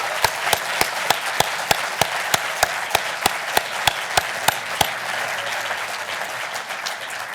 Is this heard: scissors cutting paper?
no